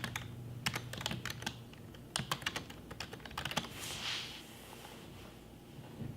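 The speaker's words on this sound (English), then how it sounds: "simply click here and start typing." Rapid keystrokes on a computer keyboard clatter in uneven bursts with short pauses, close and fairly quiet, while text is entered into a compose tool.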